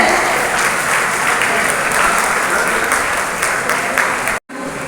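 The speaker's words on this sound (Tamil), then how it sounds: "பலத்த கரோலி." Loud, sustained applause from an audience at an International Day of Older Persons celebration, steady clapping throughout before cutting off abruptly near the end.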